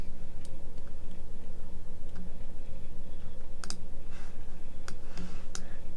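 Mouse clicks with the shift key held while editing a map on a computer, sparse sharp ticks scattered over a steady low background hum, close and fairly quiet.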